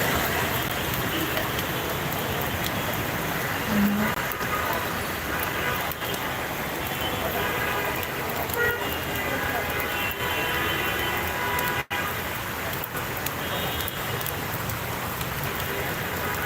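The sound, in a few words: heavy rain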